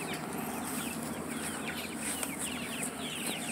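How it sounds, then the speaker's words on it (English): A flock of black Australorp chickens clucking and murmuring steadily outdoors, with scattered higher calls over a constant background. "These are our black Australorps."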